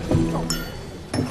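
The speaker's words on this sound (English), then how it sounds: "Prince Philip uttered blast as his glass dropped to the floor at a state banquet in 2003" A drinking glass drops to the floor during a formal state banquet, giving two bright clinks about half a second apart against a low murmur of voices in the room.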